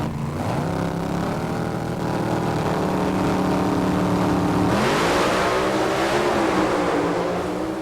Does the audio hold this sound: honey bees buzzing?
no